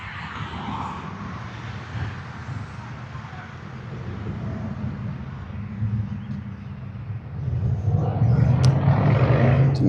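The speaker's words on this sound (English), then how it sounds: "as all of the traffic sounds come through" Road traffic rumbles past a tropical annual garden in New Jersey in early May, a continuous low wash of passing vehicles that swells louder toward the end, with wind noise on the microphone.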